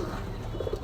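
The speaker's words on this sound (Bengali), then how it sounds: "এই একটা বাটেরা কবুতর নর, খুব সুন্দর কবুতর" A male domestic pigeon of the Batera breed coos at an outdoor pigeon sale in Gollamari, Khulna, Bangladesh, with a few soft coos rising over a steady, noisy market background.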